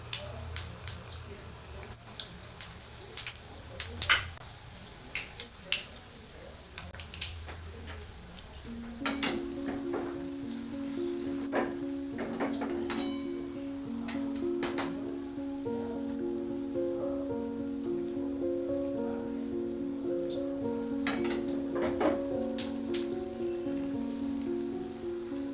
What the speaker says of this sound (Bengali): এবার তেলের মধ্যে বলগুলো নিয়ে নিচ্ছি।